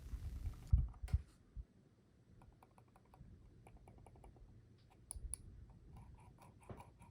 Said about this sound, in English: And now let's do a little sound test with the mouse to start.